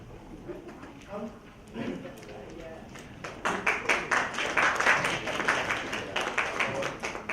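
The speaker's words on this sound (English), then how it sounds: "And let's clap after everything." Audience at an event breaks into a burst of clapping after a spoken introduction, dense rapid claps building loud and close for several seconds.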